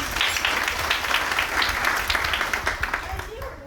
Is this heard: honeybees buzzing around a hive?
no